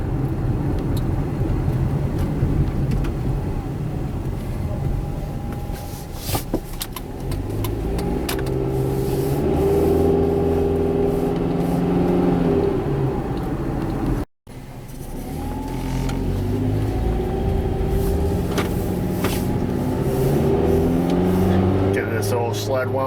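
A Jeep Compass with a CVT transmission and a freshly replaced rear wheel bearing cruises on a main road, with a steady engine and road drone rising and falling as it accelerates while someone talks over it.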